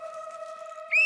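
A whistle sounds in one sustained shrill tone, then rises sharply louder and higher near the end, heard close up and alone.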